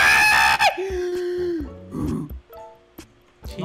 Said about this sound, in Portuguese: Nossa, mano, deu de ouvir um grito aí, hein?